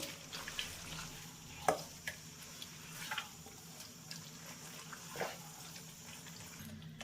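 Chicken sautéing in a pan with a faint, steady sizzle and a few soft stirring scrapes and knocks, fairly quiet throughout.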